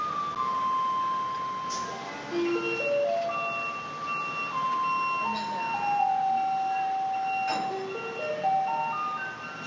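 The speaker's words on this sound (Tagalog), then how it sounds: "yung garbage truck nila dito is iba yung tunog" A garbage truck in Taiwan plays its tinkly electronic melody, a slow, stepping tune of chime-like notes, fairly clear over a soft background hum.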